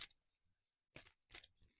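Large tarot cards are shuffled in a few quiet, rustling riffles, brief papery bursts separated by near silence.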